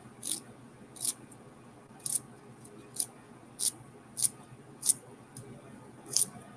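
Eight crisp snips of scissors cutting green onions, spaced roughly evenly, close up over a low background hum.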